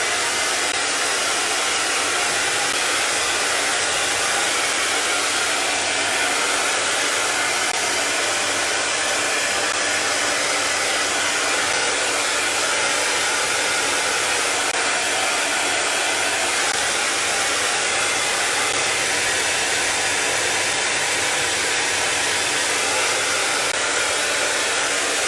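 Hair dryer blowing steadily on wet paint, a loud, constant whooshing roar with no break for the full duration and no talking.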